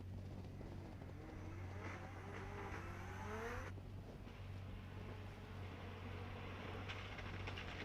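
A Toyota Supra drift car enters a drift course during competition qualifying, its engine note rising and sweeping through the first few seconds before a sharp cutoff, then a steady loud rumble continuing beneath a constant low hum.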